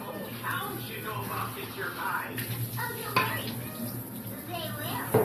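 Plates and dishes clatter and clink in a home kitchen, with intermittent scraping and rubbing of dishware, under continuous chatter and a voice.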